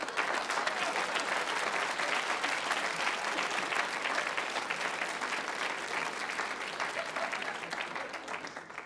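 Sustained applause from an audience at a 1982 Bavarian stage comedy, a dense, steady wash of many hands clapping that slowly fades a little near the end.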